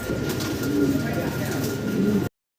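Pigeons coo in a crowded pigeon house, soft repeated low calls under a steady background hum, with voices faintly present.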